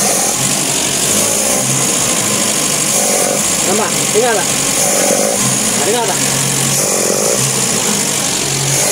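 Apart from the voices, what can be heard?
Nissan C22 Vanette engine revving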